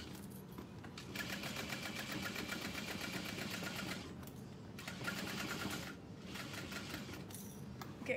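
A sewing machine stitches along the side panel of an Annette Satchel bag, running in steady rapid bursts with two short pauses where the bag is pivoted, close and fairly loud.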